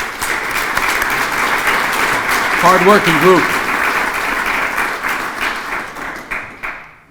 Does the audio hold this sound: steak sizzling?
no